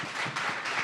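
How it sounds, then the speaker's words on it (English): Audience applause for a speaker at a BLM New Hampshire event, a short burst of steady hand clapping from a modest crowd, fairly faint and uninterrupted. "can we give Clifton a round of applause?"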